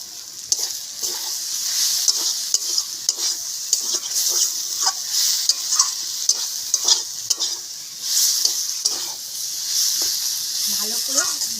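Potatoes and fenugreek leaves being stir-fried in a pan for a Bengali methi aloo fry, with a steady soft sizzle and repeated scraping stirs of a spatula, close and fairly clear throughout.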